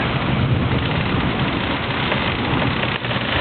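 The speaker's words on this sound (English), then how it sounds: "Kind of cool, got a lot of rain going on." Heavy rain pours during a thunderstorm with a possible tornado in St. Joseph, Missouri, a dense, steady roar with no speech over it.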